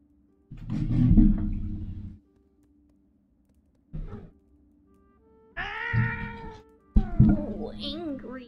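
A pet cat meows in several clear, drawn-out calls across the stretch, close by, with a person talking in between the cries.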